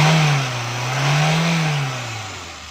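A car engine idles smoothly after its distributor has been cleaned, a steady mid-low hum that rises and falls gently in pitch without stumbling.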